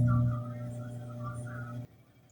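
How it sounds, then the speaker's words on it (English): Steady low mechanical hum of a washer and dryer running, with a constant drone and faint rhythmic whirring, then it drops away near the end. "That sound is the washer and dryer"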